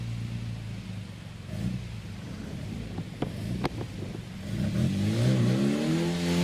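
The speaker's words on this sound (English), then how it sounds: "So Charles Bolton off the line in his MGB." An MGB race car pulling away from the start line at the Prescott speed hill climb, engine note rising and swelling in pitch over several seconds, with wind buffeting the microphone and a few sharp knocks.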